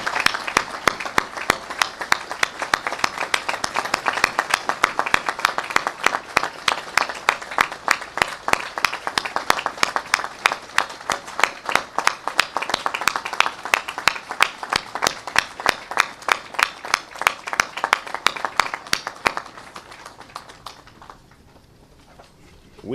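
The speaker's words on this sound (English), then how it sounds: "Could we have a rousing round of applause for the McDonald family" Crowd applause for the McDonald family at a street co-naming ceremony honoring a detective, a steady rhythmic clapping in near-unison that carries for about twenty seconds before fading out.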